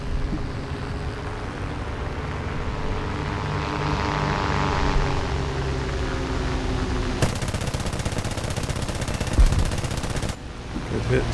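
Machine guns on a J6B fighter plane in an air combat game rattle out a dense, rapid burst of several seconds over a steady droning propeller engine, loud and close.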